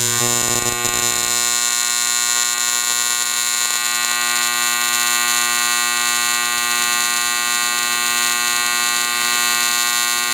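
A TIG welding arc running at 100 amps under pure argon shielding gas gives a steady, continuous buzzing hum with a bright electrical whine, loud and even from start to finish with no talk.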